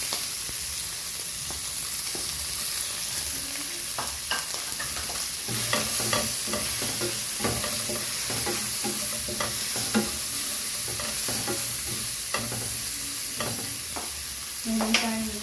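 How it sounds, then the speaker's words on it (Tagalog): Onion and garlic sizzle in hot frying oil while being stirred for a pancit miki guisado, a steady loud fry with repeated scraping stir clicks throughout, no talking. "Napa-brown na natin, ilagay natin ang onion at garlic."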